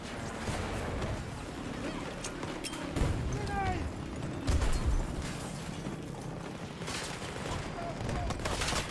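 Gunfire in the video game Battlefield 2042 rattles through a dense battle mix, with bursts and distant shots over mechanical clatter and a steady background din, moderately loud throughout.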